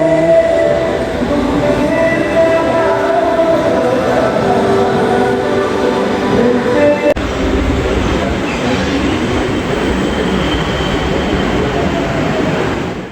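A metro train rumbles loudly through Dum Dum metro station in Kolkata, steady roar with metallic wheel squeals and clattering, continuing without voices for the whole stretch.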